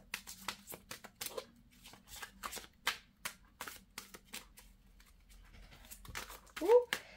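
Tarot cards shuffled and set down during a yes-or-no reading, heard as a string of short, crisp riffling and tapping bursts at close range, with brief speech between them.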